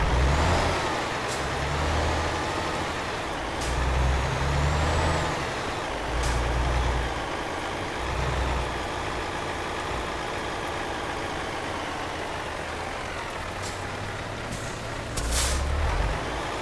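Air brakes on a heavy truck in Euro Truck Simulator 2 give several sharp hisses over a steady, low engine rumble, with the bursts spaced irregularly through the clip.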